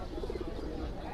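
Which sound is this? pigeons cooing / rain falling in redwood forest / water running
pigeons cooing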